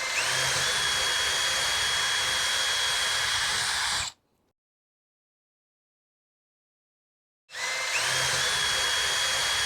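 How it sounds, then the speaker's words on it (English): Power drill boring mounting holes into a blue Fender Telecaster body, a steady close whine that runs for about four seconds, cuts out completely for three, then starts up again at the same pitch. "then we're going to drill the holes to mount it"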